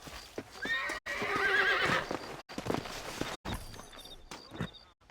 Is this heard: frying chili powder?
no